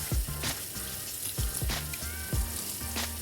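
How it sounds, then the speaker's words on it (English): Cut vegetables are rinsed in a colander under running water, with a continuous splashing hiss and a series of regular, soft low thumps as the colander is shaken, close by with no talking. "Now we're going to give this a quick wash."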